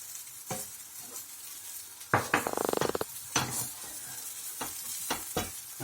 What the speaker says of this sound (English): I can see the carrots are now lovely cooking away there